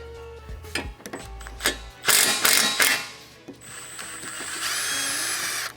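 A ratchet works a 14 mm pinch bolt loose on a Subaru WRX axle, giving close clicking strokes, a few louder grinding bursts and a steady mechanical whir toward the end.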